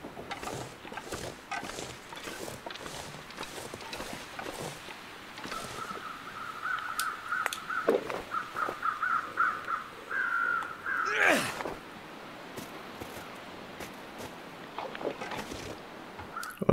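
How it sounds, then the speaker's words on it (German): Crows cawing in the snowy wilderness of the survival game The Long Dark, several harsh calls at mid distance over a steady windy background, with no voices. "Hier hätten sie wieder Krähen."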